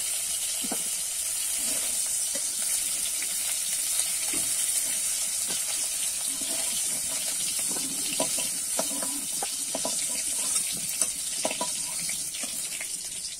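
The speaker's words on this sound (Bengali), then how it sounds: "দেখো আমি ফুলকপিটা কিন্তু নেড়ে চেড়ে ভেজে নিয়েছি" Cauliflower frying in oil in a kadai, a steady soft sizzle with faint scattered crackles and a few light clinks, close and continuous without talk.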